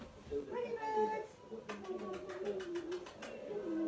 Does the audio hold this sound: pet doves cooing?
yes